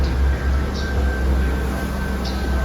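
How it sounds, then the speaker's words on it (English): A ScotRail service pulls out of Inverness station behind the Caledonian Sleeper, a loud steady rumble of train running gear with a faint high tone and brief squeals, heard close and alone. "that is a service departing out behind the Caledonian Sleep here"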